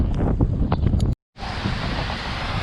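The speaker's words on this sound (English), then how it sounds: "the wind's picking up." Gusty outdoor wind buffets the microphone during a half-marathon run, a loud rushing roar that cuts out briefly for a moment, then returns and keeps blowing steadily.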